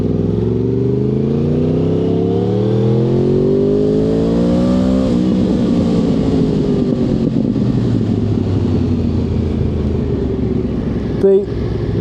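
A go-kart engine on an outdoor karting track revs loud and close, its pitch climbing steadily as the throttle opens, then settling into a sustained buzzing drone with a brief clunk near the end.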